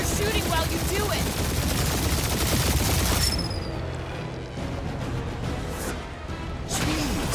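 Dense rapid gunfire and blasts in the Guardians of the Galaxy combat, loud sustained bursts of shots, then a quieter stretch before more firing near the end.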